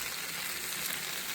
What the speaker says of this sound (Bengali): এটা একটু ভালো করে ভেজে নেব